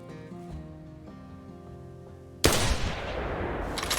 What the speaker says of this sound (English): I think that might have been a shoulder blade shot